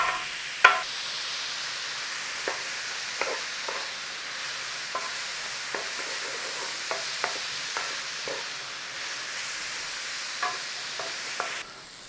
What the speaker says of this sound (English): Little stir on. Come on, get in some cooking in there. Soften it all up. Take the rawness out of the onions.